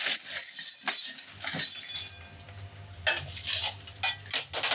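A knife and chopping board are handled in a kitchen, giving close clatters, clinks and knocks in irregular bursts with quieter gaps between.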